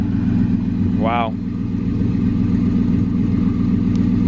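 The HEMI engine of a Chrysler 300C idles with a deep, steady, close rumble, and a person speaks a single brief word over it early on.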